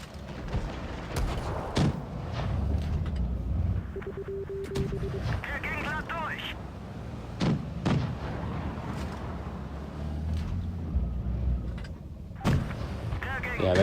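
Tank cannon shots from a Panzer IV G battle in WoT Blitz go off as sharp, repeated booms at irregular intervals through the match, set under steady game background sound and a commentator's voice.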